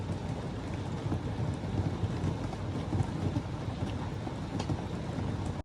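Rain falls steadily at Fall River State Park around a travel trailer, a constant soft hiss and patter with slight swells, fairly quiet and uninterrupted, ending abruptly.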